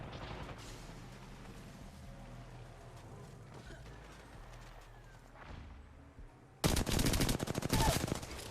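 Gunfire in the Apex Legends video game: quiet scattered shots and clicking mechanisms, then a sudden loud burst of rapid automatic fire near the end.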